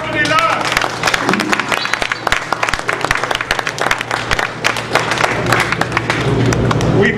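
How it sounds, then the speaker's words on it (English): A church congregation at a wedding service claps loudly and continuously in dense, sustained applause with scattered voices and cheers mixed in throughout. "Let us give a clap offering unto the Lord."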